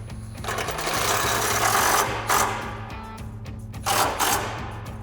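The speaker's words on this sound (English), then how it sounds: "Then we'll use our 5mm Allen socket to tighten this down." Power driver running a 5mm Allen socket to tighten bolts on a DV8 Offroad front bumper license plate relocation bracket for a 2021-2025 Ford Bronco, a steady buzzing whir with two brief bursts near the end.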